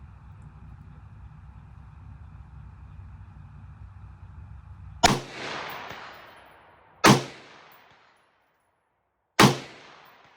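Three sharp rifle shots from an AR-15 gas gun firing 55 grain Winchester ammunition at a 220-yard target, each crack followed by a rolling echo, after a steady low engine-like drone.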